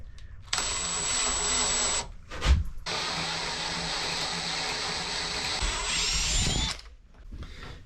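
A power drill with a long auger bit bores into wood during a wooden boat restoration, whining loudly and steadily in two close bursts separated by a short pause, then spinning down.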